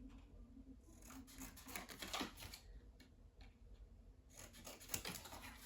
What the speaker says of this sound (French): Donc, on va venir les couper.